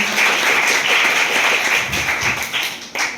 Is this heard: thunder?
no